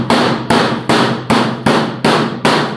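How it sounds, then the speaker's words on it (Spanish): Meat mallet pounding a thin beef cutlet through plastic wrap on a board for cordon bleu, seven firm, evenly spaced thuds about every 0.4 seconds, close and loud with no talking. "con este martillo, también llamado espalmadera, le doy ligeros golpes."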